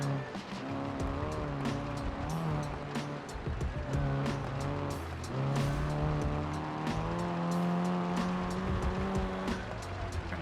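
Car engine in the BeamNG driving game, cruising around a dam in Utah, with a steady engine drone that shifts pitch through gear changes and faint tire noise, loud and continuous throughout.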